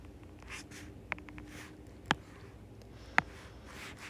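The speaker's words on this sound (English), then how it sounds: "And then I'm going to draw my line." A pen or pencil draws a line on a paper graph, making a faint scratchy stroke marked by a few sharp little taps and clicks against a quiet room hum, with no talking.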